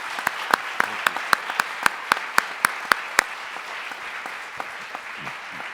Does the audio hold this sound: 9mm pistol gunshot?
no